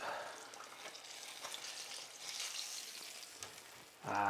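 Chicken tenders fry in oil with a soft, steady sizzle and a few faint clinks as they are flipped. A brief clatter comes at the end.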